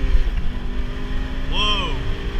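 A Honda Civic Si engine revs hard into VTEC during a drive, the loud engine note climbing and rising steeply in pitch near the end, heard from inside the car.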